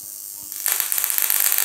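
A high-voltage generator setup rated around 35 kV switches on. A faint background quickly turns into a loud, steady high-pitched buzzing hum with a fast pulsing texture, close by and without speech.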